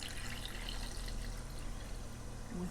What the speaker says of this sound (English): Next, cover it with water